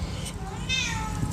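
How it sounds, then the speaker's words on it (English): A house cat lets out a short, fairly faint meow over a low-frequency hum, with a faint voice in the background. "that was my cat Footloose."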